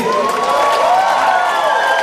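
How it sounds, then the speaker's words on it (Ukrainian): A dense, loud festival crowd at the Skhid-Rock 2016 rock festival applauds and cheers continuously, a steady roar of clapping and voices with a faint sustained tone running underneath. "Давайте оплесками привітаємо всіх."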